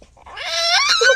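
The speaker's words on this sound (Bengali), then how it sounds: "বিড়াল তুমি তুমি একটা ক্যাট" A cat meows in a drawn-out, rising then falling cry, close and fairly loud, with no other sounds around it.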